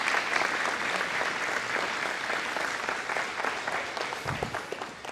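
Audience at a formal ceremony before a girls' basketball game between Armbrae Ospreys and Auburn Eagles, clapping steadily during a pause, a dense even patter of many hands that gradually thins toward the end.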